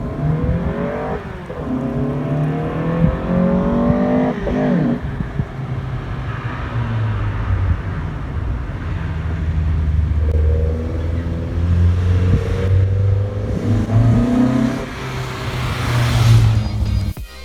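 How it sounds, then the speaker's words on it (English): A 1971 Datsun 510 with a 2.4L stroker engine revs repeatedly, rising and falling in several bursts over steady idle rumble, loud and close with light wind noise. "Now most of you will recognise that distinct engine sound at the start of the video."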